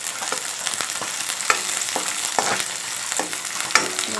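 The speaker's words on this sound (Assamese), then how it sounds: "পিঁয়াজখিনি অলপ দেৰি ভাজি ল'ম।" Onions sizzling in oil in a wok while being stirred, a loud steady crackle broken by repeated scraping strokes of a spatula at a quick, even rhythm.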